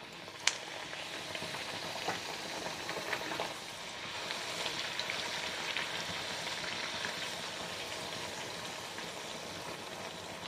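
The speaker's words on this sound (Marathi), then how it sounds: "आता राहिलेल्या पुऱ्या सुद्धा मी ह्याच पद्धतीने तळून घेणार आहे।" Spicy puris made with gram flour, jowar flour and semolina deep-fry in hot oil, giving a steady, soft bubbling sizzle that runs throughout, with a faint clink near the start.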